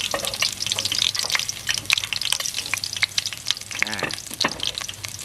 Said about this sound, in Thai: ผัดกระเทียมก่อนมันหอมก่อน